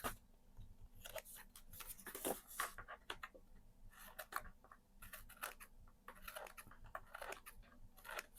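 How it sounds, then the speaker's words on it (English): Scissors snip repeatedly up close, a quick series of crisp cuts with short pauses between them, faint and with no talking. "now I am just going to take my scissors and trim this excess tape off"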